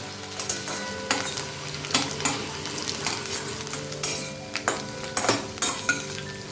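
A spoon scrapes and stirs potatoes and mixed vegetables frying in a pan for a Bengali-style vegetable dish, with repeated sharp clanking strokes over a steady sizzle and no talking.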